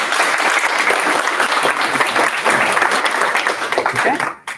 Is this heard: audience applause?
yes